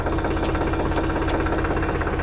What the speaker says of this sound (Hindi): हाई गियर में जब हम क्लच छोड़ेंगे तो ट्रैक्टर देखो ऐसा उठेगा, ये देखो।